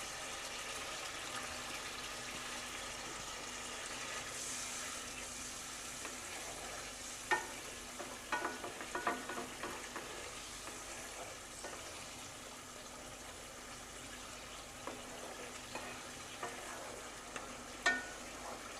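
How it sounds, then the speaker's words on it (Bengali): Paneer cubes cooking in masala gravy give a soft, continuous sizzle, with occasional light clicks and scrapes of stirring over a quiet background. "তো বন্ধুরা পনিরগুলো অ্যাড করে দিচ্ছি।"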